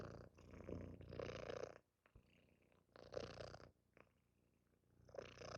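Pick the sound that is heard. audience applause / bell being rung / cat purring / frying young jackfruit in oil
cat purring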